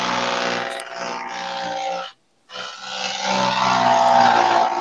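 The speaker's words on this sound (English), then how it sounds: "Hey, who's flying a plane in their room?" A loud, steady airplane engine roar drones in a room during an online Dungeons & Dragons session, cutting out briefly to silence midway before resuming just as strong.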